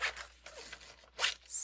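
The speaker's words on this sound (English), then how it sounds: "Let me get my scissors here that I can cut those out pretty quickly." Scissors cut glossy magazine paper in a few quick, crisp snips and rasping slices, close and fairly quiet, with short pauses between strokes and no talking.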